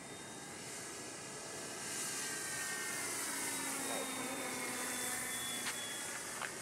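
An Eflite Sukhoi 26m RC model airplane flies overhead, its electric motor giving a steady, faint whine that rises slightly and shifts in pitch as it passes at a distance.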